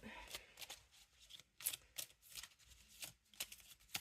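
A deck of cards shuffled on a desk, close-up bursts of quick papery riffles and flicks in uneven clusters, fairly quiet.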